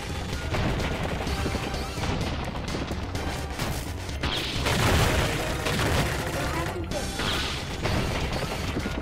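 Bombs explode in a dense, continuous barrage during a boss fight in the video game Iconoclasts, with repeated crashing booms layered over busy game effects.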